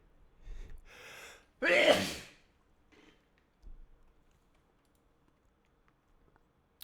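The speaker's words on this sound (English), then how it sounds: "I sneeze." A single sharp sneeze up close, preceded by a quick breath, followed by a few faint keyboard clicks in a quiet room.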